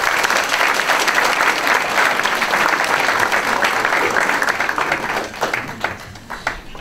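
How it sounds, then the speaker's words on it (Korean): Fathers gathered at a dads' camp preparatory meeting give a dense, steady round of clapping that fills the whole stretch, thinning into scattered claps near the end. "환영의 박수 부탁드립니다"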